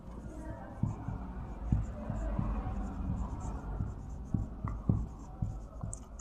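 Chalk or marker strokes on a board during a chemistry lecture, close and fairly quiet, with irregular taps and scratchy scrapes over a low room hum.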